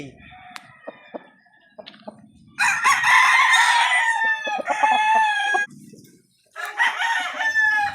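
A nine-month-old golden boy sweater stag rooster crows loudly and close, two long harsh calls with a pause between, after some lighter clucking and scattered backyard noises.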